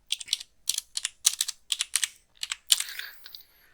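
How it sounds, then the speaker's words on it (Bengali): Fingers tap out an ID number on a computer keyboard in quick bursts of close, crisp clicks, with short pauses between groups of keystrokes and a final heavier press, all fairly quiet with no talk. "তো আমি এখানে আমার আইডি নাম্বারটা দিয়ে দিচ্ছি।"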